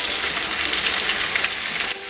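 Half a kilo of boneless chicken pieces sizzles loudly in a pan with onions for Chinese garlic chicken, a steady bright hiss of frying that drops off slightly near the end.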